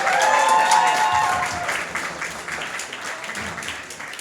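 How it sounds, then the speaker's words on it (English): An audience at a Long Beach political event applauds loudly with a few whistles, the clapping gradually thinning and fading toward the end. "Another round of applause for folks on stage."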